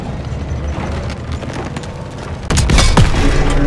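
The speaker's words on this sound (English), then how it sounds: "Just destroying the building ahead of time before you get too close." A building is blown apart in Call of Duty: WWII, a loud, dense explosion that bursts in midway and rumbles on with crackling debris, following a steady din of battle.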